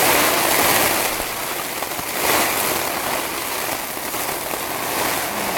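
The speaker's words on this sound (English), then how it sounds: "It is really starting to pour down outside and the wind is going." Heavy rain pours down outdoors with gusting wind, a loud, dense, continuous hiss of drops that swells and eases slightly, with no other sounds rising above it.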